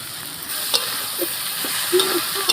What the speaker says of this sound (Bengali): মশলা দেওয়া শেষ, এখন আমি নেড়ে মিশিয়ে নিই।